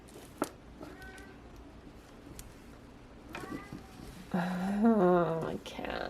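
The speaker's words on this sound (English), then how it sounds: "There's always a cat making sounds." Indoors, a house cat gives several drawn-out wavering meows that grow louder toward the end, one long insistent cry rising and falling, with soft knocks and handling noises between.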